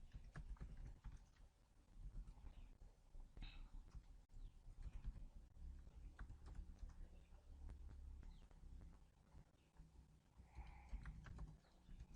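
Someone types on a computer keyboard, with quick, soft, irregular key clicks running continuously. The sound is close but faint, over a low hum and rumble of background noise.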